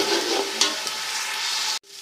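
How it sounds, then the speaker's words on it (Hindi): Onion paste fries with garlic in a pot for beef paya, giving a continuous loud sizzle that cuts off abruptly near the end. "लहसुन को फ्राई करने के बाद हम इसमें शामिल करेंगे प्याज वाला पेस्ट"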